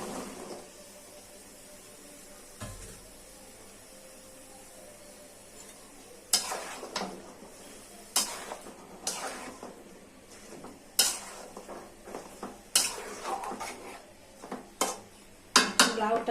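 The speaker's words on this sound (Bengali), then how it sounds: "আগে থেকে ধুয়ে রাখা, পরিষ্কার করে ধুয়ে রাখা লাউগুলো দিয়ে দিচ্ছি।" Washed, cut bottle gourd goes into a pot of curry with snakehead fish and is stirred, heard as repeated close scrapes and clanks of a spoon on metal over a faint sizzle.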